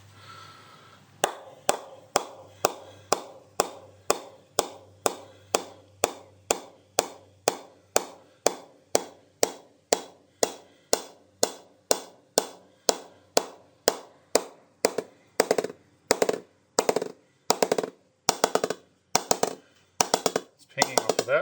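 A Gray-Nicolls Ultimate cricket bat from 2018 being tapped with a ball or mallet: a long, steady series of crisp, ringing knocks, evenly spaced, then quicker and louder toward the end, close and alone.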